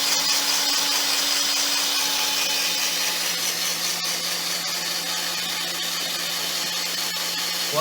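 A cordless drill spins the shaft of a 2kW 48V off-grid wind generator at full speed, giving a constant loud broadband whir with a steady hum underneath, uninterrupted and close.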